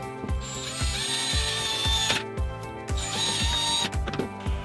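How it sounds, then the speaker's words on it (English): A power drill bores holes beneath the battery compartment of a Fisher-Price Jam and Count Panda toy, in rapid repeated whirring bursts with ratcheting clicks. The sound is close and fairly loud, with no voices. "We can kind of drill underneath this battery compartment, and there should be plenty of room there for all of our cords."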